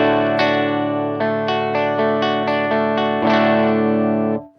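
Electric guitar on the bridge pickup, driven through an Orange Pedal Baby 100 amp: sustained chords with a run of picked notes ringing over them, loud and alone, before a quick cutoff.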